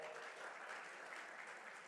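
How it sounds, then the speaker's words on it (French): Applause for Jean-Louis Quadio at a French-speaking gathering on youth employment, a steady, quiet wash of clapping from an audience that holds evenly throughout without voices. "Monsieur Jean-Louis Quadio, qu'on va applaudir très fort"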